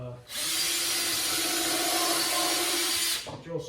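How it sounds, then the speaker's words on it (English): A power drill whirs steadily into wood, drilling pilot holes for a workbench, for about three seconds, loud and close, then stops, with a brief rustle after. "So the first thing I'm gonna do is drill some"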